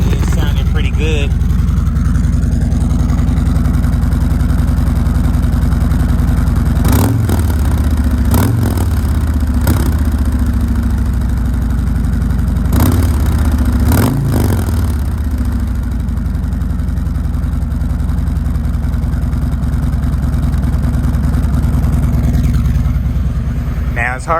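A motorcycle engine idles steadily after its first start-up, a loud close rumble with a few brief revs partway through, and faint speech over it.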